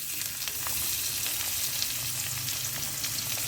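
Chopped onion sizzles over medium flame in a pan, an even, moderately loud frying hiss that carries on without pause and without any voices.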